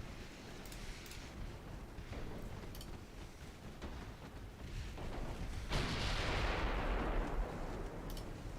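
Warship secondary guns firing in a naval combat game, a continuous rumbling barrage of distant booms that swells into a louder roaring blast near the end.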